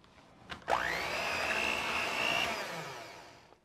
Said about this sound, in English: Thoroughly mix until creamy.